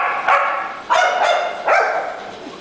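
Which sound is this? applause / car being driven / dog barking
dog barking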